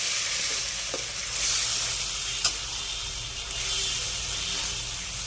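Bhola fish with coriander paste sizzles in a pan while it is stirred. A steady frying hiss runs throughout, with a few soft scrapes of the spoon, and no one speaks.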